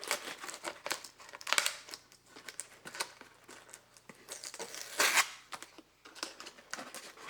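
Tape is peeled and torn off the cardboard box of an IR-controlled Battle Spacebot toy, with close, irregular crackling, crinkling and ripping bursts.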